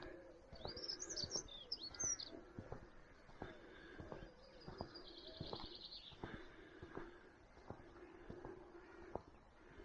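Small birds chirp and tweet on a quiet morning near Solva harbour in Wales, their calls soft and somewhat distant, repeating in short bursts over a hushed outdoor background.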